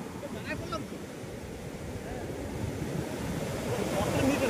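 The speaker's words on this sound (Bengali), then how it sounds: "ঢেউ কি বিশাল বড় ঢেউ" Big ocean waves surge and break at Mangaluru beach, a steady broad roar of surf that swells louder toward the end, with wind buffeting the microphone.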